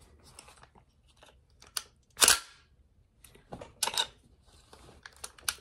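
A CMMG .22 LR conversion kit chambers a round: a run of short metallic clicks and clacks, one sharper snap standing out, with quiet gaps between them.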